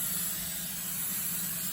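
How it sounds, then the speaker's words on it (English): Baker's Joy baking spray hisses out of an aerosol can onto a 6-inch cheesecake pan, one continuous close spray lasting almost two seconds. "So I'm gonna spray it with"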